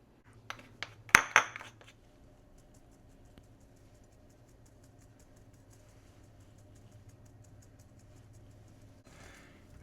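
A spoon clinks and scrapes against a bowl while cornstarch, garlic powder and white pepper are mixed, with a few sharp taps near the start, then a quiet steady background hum.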